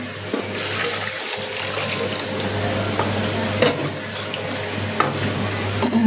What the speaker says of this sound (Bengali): এখন ঝোলের পানি দিয়ে দিলাম